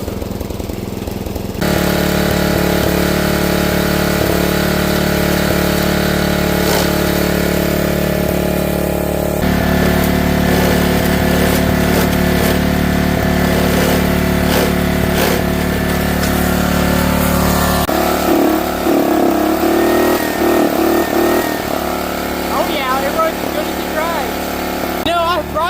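A worn-out, clapped-out lawn mower engine runs loud and steady for the whole stretch, its droning, rattling tone shifting pitch a few times as the revs change.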